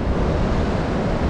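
Strong wind blows at the seaside on the Moroccan coast, a loud, dense rushing roar with surf-like texture that buffets the microphone steadily throughout, with no voices.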